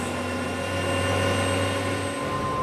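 Helicopter flying out of Gaza, a steady loud rotor and turbine drone with a constant whine, continuous throughout with no talk.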